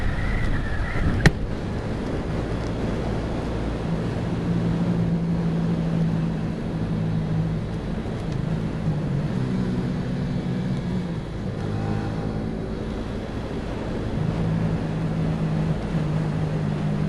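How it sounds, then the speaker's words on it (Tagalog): Strong wind roars over a steady vehicle engine drone while riding on a highway through a tunnel, a constant buffeting rush with one sharp click near the start. "Oh my god, ang lakas ng hangin"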